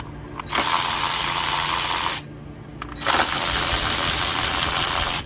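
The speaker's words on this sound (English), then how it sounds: "These are all 10mm to loosen up. And we'll drive these bolts out." A powered ratchet drives out 10mm bolts on a 2015 Dodge Journey engine in two loud, whirring runs, each about two seconds long, separated by a brief pause, with close, metallic clicks at the start of each run.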